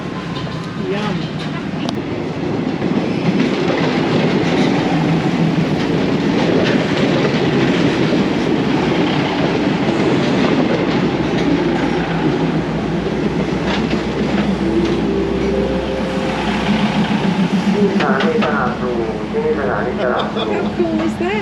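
A train runs along rails in Bangkok with a steady rumbling roll and rhythmic clickety-clack, loud and continuous from inside the carriage, with occasional squeals and people talking over it.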